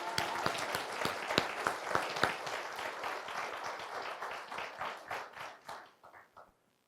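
An audience at the City of Citrus Heights State of the City address applauds, with steady claps that gradually thin out and fade away to silence.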